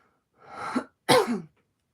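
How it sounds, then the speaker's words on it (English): Two coughs close to the microphone, a softer, drawn-out one followed by a sharper, louder one, then silence. "Sorry for the cough"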